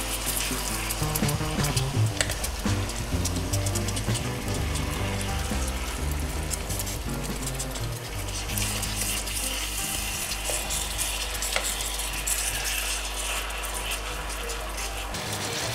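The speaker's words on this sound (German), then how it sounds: "Ich werde das jetzt von beiden Seiten kurz anbraten." Chicken pieces sear in sugar syrup in a pan with a loud, continuous sizzle and crackle, joined by occasional scraping and stirring clatter. No one speaks.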